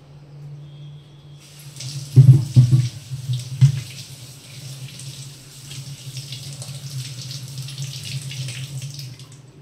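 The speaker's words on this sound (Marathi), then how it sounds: "आता यांना स्वच्छ धुवून घेते." Tap water runs steadily into a sink while freshly peeled potatoes are washed, with a few louder splashing bursts early on as they are rinsed, then a continuous even flow.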